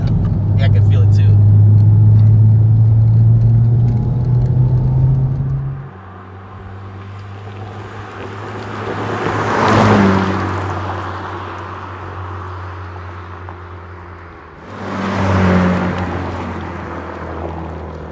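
A Honda Civic Type-R fitted with Swift lowering springs drives over a bumpy, rough road at around 50-55, with steady road and engine noise, loud rumble early, then quieter cabin drone broken by two swelling whooshes.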